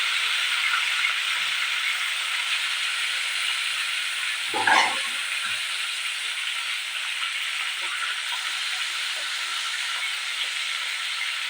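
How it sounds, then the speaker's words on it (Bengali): Fish fries in a pan with a continuous, close sizzling hiss that stays steady throughout, broken once by a brief clatter near the middle. "ওদিকে রান্নাঘরে হচ্ছে মাছটা ভাজা করতে দিয়ে"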